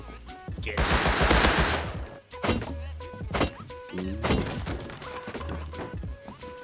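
Rapid automatic gunfire rings out from an outpost in a multiplayer survival video game, with dense bursts and sharp repeated shots crackling loudly alongside thuds and a brief shattering noise, continuing across the whole stretch.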